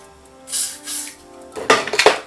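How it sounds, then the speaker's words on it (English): Got To Be hair spray is misted onto the middle of a 4x4 closure wig's hairline in two short, close hissing bursts, followed by light clattering handling noises. "So I'm going to spray my Got To Be spray right"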